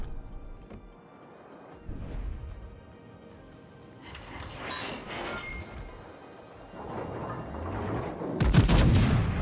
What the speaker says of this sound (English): why is that BB shooting so fast?